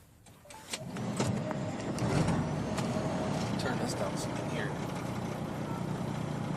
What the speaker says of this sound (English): I'm then going to push the clutch in and start the engine